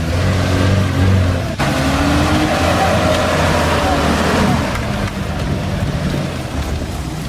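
A standard-engined, supercharged 4100 cc Jeep Rubicon Wrangler roars steadily and loudly through an off-road obstacle stage beside a river, its engine noise mixed with rushing wind and water.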